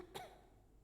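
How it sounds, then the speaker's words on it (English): A single short, soft cough from a girl, heard close against a quiet background. "Announcing her arrival with a cough"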